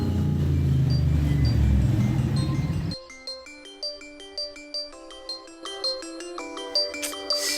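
Mobile phone ringtone plays a bright electronic melody of repeated tonal notes, loud and alone, following a few seconds of broadband rumble and noise.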